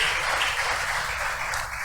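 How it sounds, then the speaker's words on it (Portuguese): A church congregation applauds during a sermon, producing a brief, continuous roar of many hands clapping at moderate volume. "Tem algum salvo aqui? Aplauda, se alegre, glorifique a Jesus."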